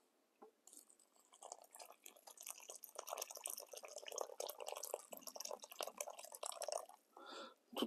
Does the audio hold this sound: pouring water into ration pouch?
yes